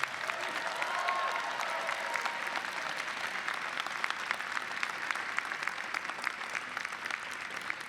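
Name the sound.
commencement audience applauding families and friends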